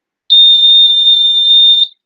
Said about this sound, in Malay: LED menyala dan buzzer berbunyi menunjukkan bahawa karbon merupakan konduktor elektrik